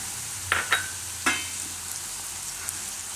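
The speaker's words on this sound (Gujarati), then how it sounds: "એમાં આપણે ચણાનો લોટ તેલમાં નાખીશું એટલે શેકાઈ જાય સરસ" Gram flour hitting hot oil in a pan with yogurt and green chillies, giving a soft, steady sizzle with a few brief stirring scrapes near the start.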